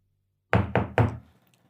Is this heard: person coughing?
no